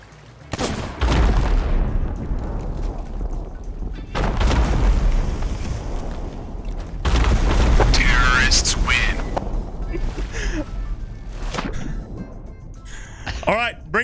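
Booming explosions from bombs blasting a pirate ship's hull in the Sea of Thieves video game, several loud heavy bursts with rumbling debris spread across the clip, players' voices talking over them.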